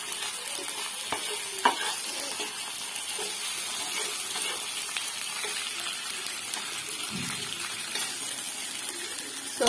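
Fish frying in a mustard sauce for an Odia-style dish, with a steady, dense sizzle that runs throughout and occasional light clicks of a utensil stirring in the pan, close and without speech.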